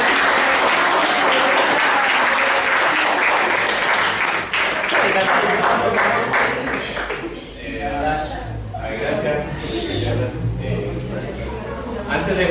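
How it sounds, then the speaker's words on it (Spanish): Students at a school science talk applaud a teacher loudly for several seconds, with a few chuckles in the crowd, and the clapping thins out toward the end as murmuring and a voice take over. "un aplauso ahí al profesor"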